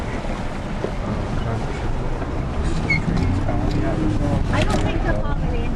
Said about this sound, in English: Listen to that creek talk.